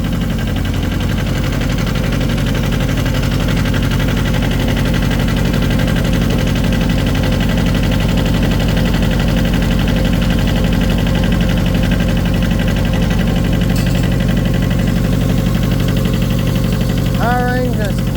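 A new small John Deere tractor engine runs steadily in first gear, a loud, close, continuous low rumble and drone that holds without a break for the whole stretch.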